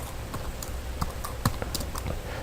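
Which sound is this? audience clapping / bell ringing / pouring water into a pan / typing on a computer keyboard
typing on a computer keyboard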